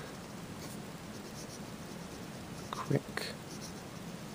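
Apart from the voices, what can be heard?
Skilcraft fountain pen writing on paper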